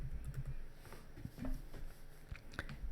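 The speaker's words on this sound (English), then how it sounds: "I'll just simply type in lawyer" Light, scattered clicks of a keyword being typed on a computer keyboard, soft and irregular over faint background noise.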